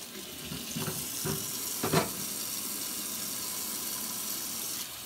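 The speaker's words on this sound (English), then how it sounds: "I'm going to wash my hand." Water runs steadily from a kitchen tap as hands are rinsed clean of raw egg residue, a continuous hiss with a few brief splashy bursts early on, close and moderately quiet.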